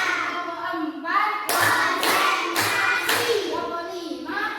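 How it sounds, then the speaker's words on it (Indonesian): Hands clap out a patterned rhythm in a classroom coaching exercise, a few sharp claps in quick groupings with faint voices around them. "Tepuk 4."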